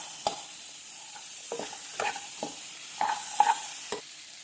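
Chopped tamarind is stirred into chilli powder for pickle in a pan, a series of soft scraping stirs with occasional light metallic taps, close and fairly quiet.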